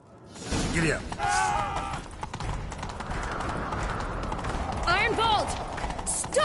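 A horse gallops in The Witcher 3, hooves clattering in a fast steady rhythm close by, with spoken voices over the running hoofbeats.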